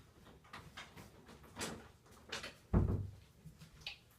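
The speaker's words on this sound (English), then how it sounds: "First I gotta close this door." A room door swings shut with one dull, low thump after some faint rustling and handling noises, fairly close in a quiet indoor space.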